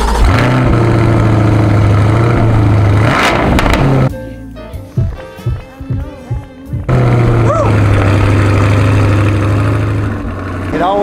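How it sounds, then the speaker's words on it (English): A Chevrolet Corvette C8 with performance exhaust rumbles loudly at a steady idle, cuts off briefly amid clunks and talking, then fires back up into a deep idle. "GM did a phenomenal job on the performance exhaust on these C8s."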